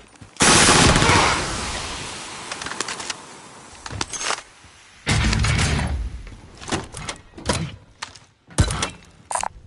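Gunfire in the game Warzone, with loud sustained automatic bursts near the start and middle, then scattered shots and impacts of varying loudness.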